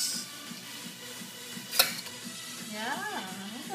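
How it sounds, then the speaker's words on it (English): A spoon stirs pistachio cake batter in a bowl at home, a soft scraping swirl with a sharp clink against the side midway, while a child's and an adult's voices chatter over it. "Stir it good."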